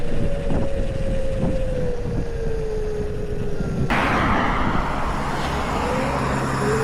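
A thin whine from a Krusade Monster electric pocket bike's mid-drive motor hums steadily over rushing wind noise, its pitch sliding slightly as the ride continues.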